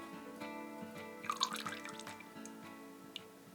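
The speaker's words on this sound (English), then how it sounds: "I'm just gonna pour it into this small Pyrex measuring cup so I don't make a mess all over the place" Liquid herbal salve is poured into a small Pyrex measuring cup, making a soft, close trickle and dripping with a brief louder splashy patch midway, quiet throughout.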